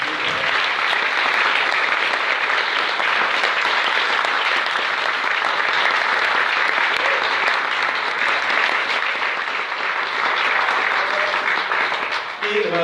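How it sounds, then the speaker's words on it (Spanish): Sustained audience applause after a question-and-answer session at a Spanish-language videoconference lecture on ancient funerals, a loud, dense, even roar of many hands clapping that holds steady for about thirteen seconds before easing at the end, with no talk over it. "Le damos un fuerte aplauso"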